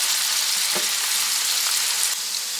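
Potatoes and onions fry in a pan with a steady, dense sizzle that stays close and even throughout, with no voices.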